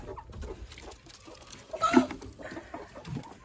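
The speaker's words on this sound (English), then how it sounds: "it's you two broody hens that cause the problems" Broody hens cluck in short bursts around a louder, throaty squawk in the middle, fairly close, over a low background rumble.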